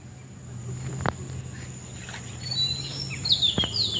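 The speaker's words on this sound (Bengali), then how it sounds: "সন্ধ্যার আগে নৌকা পাখির থেকে একটু কলকাকলি" Birds chirp at dusk around a home in a Bangladeshi village, with soft background ambience and a few sharp, high calls clustering toward the end, moderately near.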